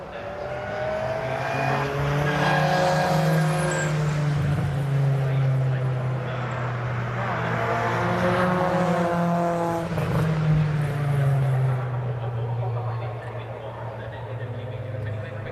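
Race cars in MGCC Cockshoot Cup qualifying stream past on the circuit with sustained, rising and falling engine drones overlapping each other, loud and continuous, while a commentator talks over them.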